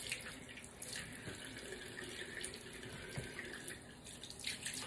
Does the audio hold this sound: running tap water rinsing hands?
yes